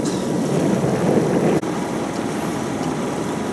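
A sailboat runs under its engine along the Croatian coast in very light wind. A steady, close low drone and water rush mix with microphone wind noise, with one brief dropout partway through.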